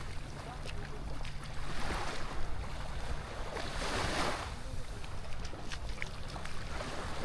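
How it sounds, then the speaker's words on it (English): Ocean waves wash onto the beach at Playa del Carmen near a reef, a continuous soft surf with gentle swells rising and fading, mixed with light wind and no talking. "the sound of the waves"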